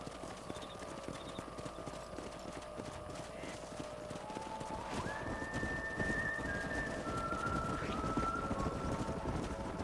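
A group of horses from the video game Red Dead Redemption gallop with rapid, continuous clip-clop hoofbeats that swell louder midway, joined by a few brief whinny-like tonal cries, with no speech.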